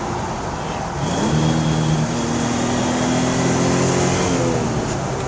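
A 1976 Datsun 280Z engine with aftermarket exhaust hums steadily, then its pitch climbs and shifts as the revs change during a downshift, the tone settling into a steady drone.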